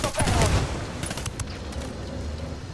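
Gunfire and explosive bursts from a frag grenade in the tactical shooter Ghost Recon, loud and busy at the start, then a steady rumble of continuing combat noise.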